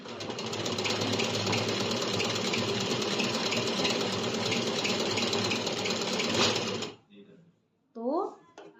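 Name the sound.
sewing machine stitching a salwar seam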